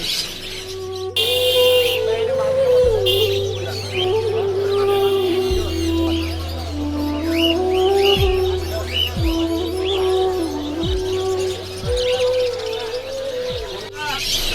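Cockatiels and other caged birds chirp and whistle at a busy bird market in Dhaka, Bangladesh, with steady overlapping calls under nearby conversation and market bustle.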